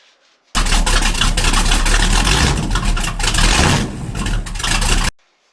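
A Chevrolet Chevelle V8 revs loudly through a custom tucked exhaust, close by, with a sudden start, a sustained roaring run, a brief dip and a rise before cutting off abruptly.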